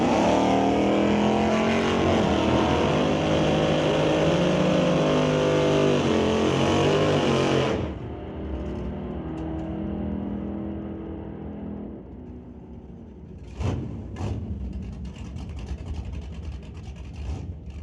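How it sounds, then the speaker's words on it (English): A 2022 5-liter Mustang drag racing a 1970 Chevelle at a drag strip, engines roaring loud and steady before the sound drops away abruptly, then quieter distant rumble with a couple of sharp bursts. "Baskerville running a 2022 5-liter Mustang out of West Vancouver, going up against the 1970 Chevelle"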